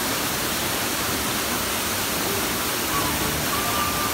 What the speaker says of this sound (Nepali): गाइस पानी पर्यो